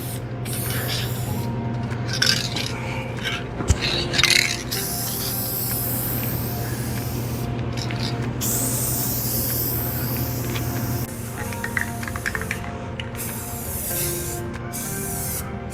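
Spray paint hisses steadily as coats go onto a car part, a continuous close spray broken by a few brief pauses and small bumps.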